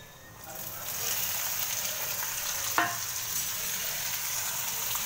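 Onion, green chilli, curry leaves, mustard seeds and cumin fry in hot oil for a tempering, making a steady close sizzle with one sharp crackling pop partway through.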